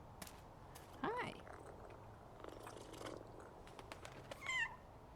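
A cat in a Powerwash Simulator 2 game meows twice, short rising cries about a second in and again near the end, over a quiet background with faint talk.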